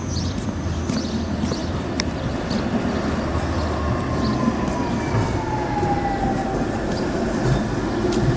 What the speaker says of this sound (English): I love these funky trams.